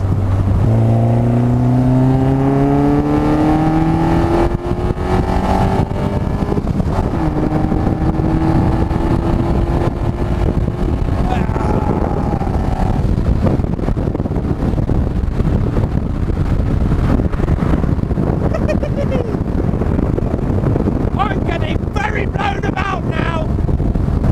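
Inside a moving car, a steady loud roar of road noise and air blowing from the vents fills the cabin, with engine tones shifting as the car accelerates early on.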